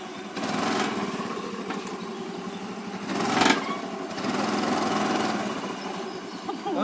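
A scooter engine hums and buzzes at low speed during a riding lesson, its pitch rising briefly as the throttle is twisted, heard close with faint voices in the background.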